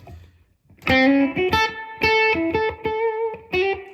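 A Fender '68 reissue Twin guitar amp pushed into overdrive at bedroom volume plays a short run of distorted notes, gritty and sustained, with brief gaps between chords.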